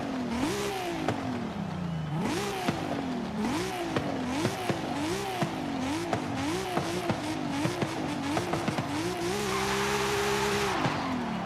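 A straight-six car in Forza Horizon 5, fitted with individual throttle bodies, revs repeatedly through the upper RPM range with rising, falling engine sweeps and gear shifts, then holds a steady high-pitched drone near the end.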